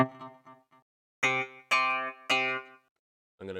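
Plucked Japanese-style string patch from a software instrument in a beat-making program, a few short soft notes followed by three longer ringing bright tones and a final note, clean and alone.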